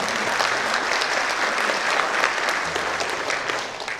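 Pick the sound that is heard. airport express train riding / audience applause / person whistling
audience applause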